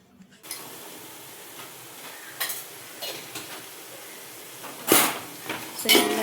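Cinnamon, cloves and cardamom sautéing with fried onions for a large batch of biryani give a faint, steady sizzle, broken by a few louder spoon scrapes and stirs against the pan.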